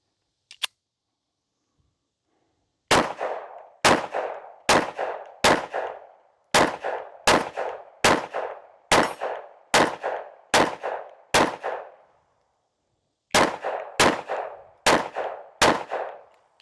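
A Smith and Wesson Shield Plus Carry Comp 9mm pistol fired at a dummy about 25 yards downrange: a steady string of sharp, loud, close shots in an even rhythm, a short pause, then three more, with no talking.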